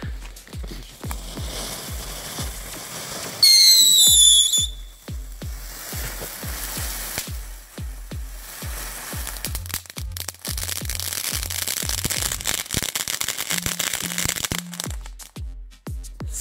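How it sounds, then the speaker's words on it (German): A New Year's Eve whistling firework rises as a loud, brief whistle with a falling-then-rising pitch, surrounded by a steady crackle of distant bangs and fountain sparks from other fireworks going off outdoors. "Sehr schön, okay, doch nur ein Pfeifer."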